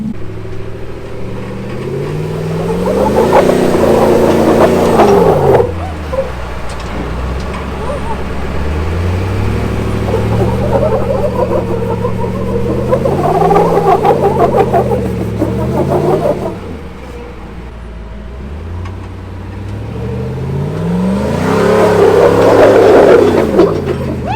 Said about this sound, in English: We just want to be able to spin the tires without climbing first.